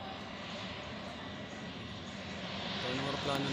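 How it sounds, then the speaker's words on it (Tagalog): A Philippine Airlines airplane lands at NAIA at night, its jet engines a steady distant roar that swells slightly toward the end, with people talking nearby. "Anong aeroplano naman to? Philippine Airlines."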